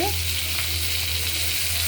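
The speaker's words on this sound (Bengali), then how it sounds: "সম্পূর্ণ মাছগুলো আমি ভাজিয়ে নিচ্ছি" Pieces of boal fish fry in hot oil with a steady, dense sizzle that holds even and loud throughout, with no voices present.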